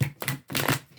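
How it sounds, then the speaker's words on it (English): Tarot cards being shuffled by hand: two short riffling bursts of card noise, close and quiet, in a brief pause. "I am shuffling."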